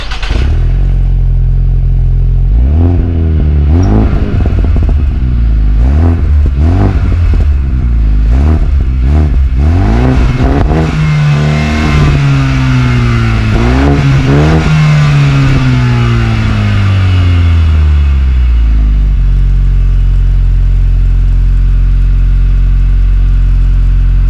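A car engine fitted with a newly installed Vicrez performance exhaust revs repeatedly, rising and falling in sharp bursts before settling into longer sweeping revs and then a steady idle, loud and close with no talking.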